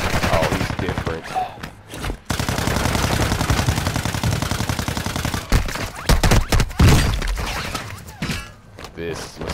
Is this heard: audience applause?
no